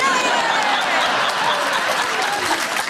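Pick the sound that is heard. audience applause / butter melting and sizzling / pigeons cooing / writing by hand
audience applause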